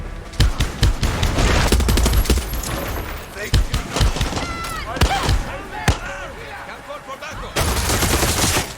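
Gunfire rattles in the Far Cry 6 video game, with dense bursts and single sharp shots, some echoing, mixed with game sounds while someone talks over it.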